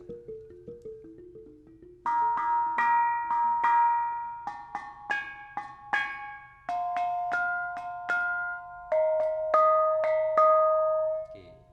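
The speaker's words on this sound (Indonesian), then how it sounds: "sekarang kita coba di bunang penerus ya, gembyang 6. Seperti apa suaranya?" Bonang penerus gamelan gongs ring out in a gembyang 6 pattern, struck close by in a steady sequence of bright, bell-like metallic tones, some paired in octaves, following a few softer, lower struck notes at the start.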